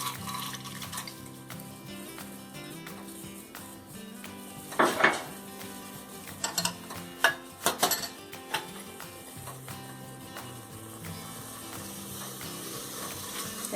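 A pot set down and washed lentils added for a Vishu sadya, scattered clinks and clatters of metal cookware with a few sharp knocks in the middle amid faint kitchen sounds.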